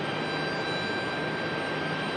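A Frontier airliner moving at Raleigh-Durham airport, heard as a steady, broad jet engine roar with a thin high whine, constant and fairly loud throughout.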